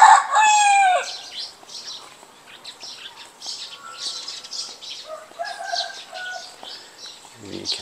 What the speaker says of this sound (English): Another hen scratching away.